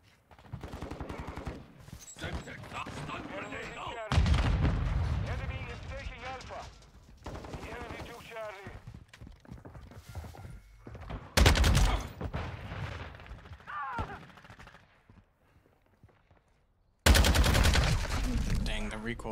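Lachmann 762 rifle fire in Modern Warfare 2, repeated loud automatic bursts separated by short pauses, heavy and close, with talking heard between volleys.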